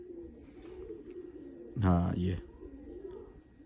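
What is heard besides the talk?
Washi pigeons cooing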